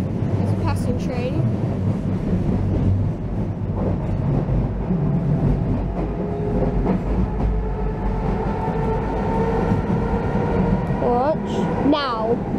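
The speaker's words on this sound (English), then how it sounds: "There's a passing train." Loud, continuous rumble of a metro train passing in Budapest, rolling wheel noise and rattling carriages, with speech faintly mixed in beneath the din.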